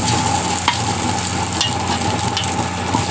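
Pork browns in a pan with little oil, giving a loud, continuous crackling sizzle close up, broken by a few faint scrapes and clicks; no one talks.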